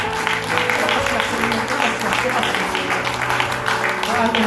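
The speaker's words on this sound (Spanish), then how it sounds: "le damos el aplauso" A church congregation gives sustained, even applause for several seconds, a thick wash of clapping with a steady tonal hum underneath, like a held instrument chord.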